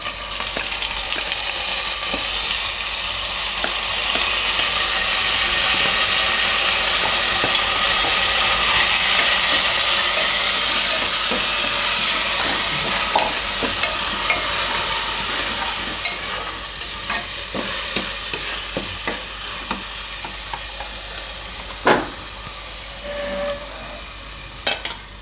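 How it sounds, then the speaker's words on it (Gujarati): Washed rice goes into a pan of hot oil with cumin tempering and sets off a loud, steady sizzle and hiss that holds close and continuous, with occasional stirring clinks near the end. "તો હવે આમાં આપણે આ ચોખા ધોયેલા નાખી દઈએ."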